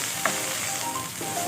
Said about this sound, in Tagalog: Gisa-gisa lang tayo ngayon